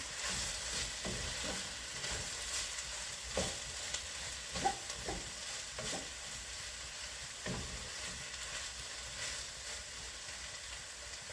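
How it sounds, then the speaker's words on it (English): Vegetables sizzle in a frying pan as they are stirred through to coat them, while cooking ratatouille pasta: a continuous soft frying hiss with occasional scraping stir strokes, and no voices. "At that point, then I go ahead and stir it through all my veggies so it's all coated."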